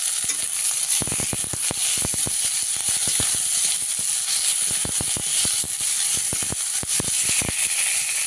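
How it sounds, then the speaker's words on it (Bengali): Tomatoes frying in a pan, a constant bright sizzle with a rapid run of sharp spatula taps and scrapes against the pan, close and loud with no talking. "এবার দেবো টমেটোগুলো একটু ভেজে নিই।"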